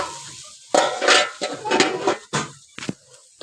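Stirring turmeric powder into food frying in a pan, with scraping strokes of a utensil against the pan in irregular bursts over a soft sizzle, close and fairly loud.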